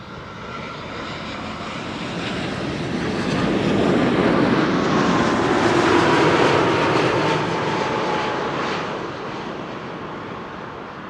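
An airliner arrives at Amsterdam Schiphol Airport, its jet engine roar swelling from a steady rush to a loud peak near the middle and easing slightly toward the end, heard alone without voices.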